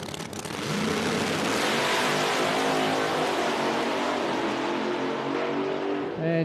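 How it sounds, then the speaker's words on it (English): Two drag race cars launch side by side at a no-prep drag race at National Trail Raceway, a loud, sustained engine roar that builds and holds through the whole stretch. "Great side-by-side drag race there between those two cars, but Jeff Lutz"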